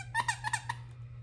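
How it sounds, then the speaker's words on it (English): A squeaky dog toy from a Christmas holiday haul squeaks five quick times in a rapid, bright series, close and alone, then falls silent. "Cito, I did squeak, but you can't have this yet."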